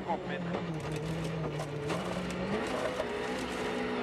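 Ogier's WRC rally car attacking a slippery Monte Carlo stage, its engine note rising and falling through gear changes, heard at a distance beneath a continuous voice.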